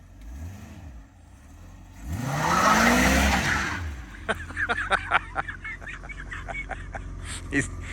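A 1984 Chevrolet Corvette C4, recently fitted with a new starter and distributor, revs hard in a one-wheel burnout, its engine swelling and fading over a second or so before a run of rapid, sharp ticking and popping bursts follows.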